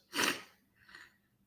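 A single sharp sneeze, fairly close and quiet, followed by a short breathy sniff.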